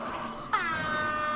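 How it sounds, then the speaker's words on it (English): A faint drone gives way to a sudden, loud air horn blast that holds a steady, bright tone to the end. "I'm busting out the air horn"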